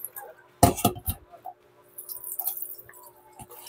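Water is changed and drips into a bowl while cooking, with a sharp splash and clatter early, then scattered small drips and light clinks, close and alone.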